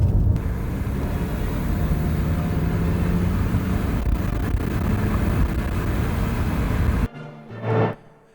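A BMW E61 520 diesel estate accelerating with its turbo, a steady broadband engine and road roar held loud for about seven seconds before cutting off abruptly, followed by a brief fainter swell.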